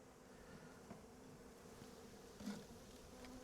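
Bees buzzing at an open beehive during hive work, a faint, steady low drone with an occasional louder bee passing close, no voices.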